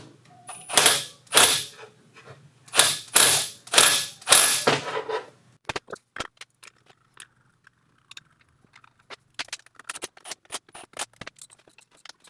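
An impact wrench works on the turbo of a 2003 Ford Excursion 7.3, firing four loud, rattling bursts in quick succession, followed by scattered light metallic clicks and taps of tools being handled.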